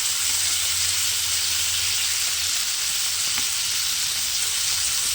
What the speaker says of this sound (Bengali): শিমটাকে একটু ভেজে নিতে হবে।